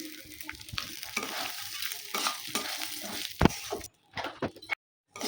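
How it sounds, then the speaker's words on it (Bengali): Rice for pulao is stirred in a hot pan with whole spices, a close sizzle with scraping and rustling strokes, then brief pauses and a final clatter. "চালটা হালকা নাড়াচাড়া করে নিয়েছি বন্ধুরা।"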